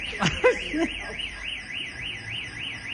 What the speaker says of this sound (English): What's that alarm? We set the alarm off, Julia.